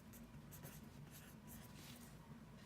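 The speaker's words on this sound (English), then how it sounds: "So I'm going to write" A pen or pencil writes by hand at close range, with short scratchy strokes that stop and start over a low steady background hum.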